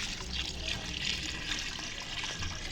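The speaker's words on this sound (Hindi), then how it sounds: "इसमें हम पानी डालेंगे" Water pours steadily into a potted palm plant at home, a faint continuous splashing trickle under soft background noise.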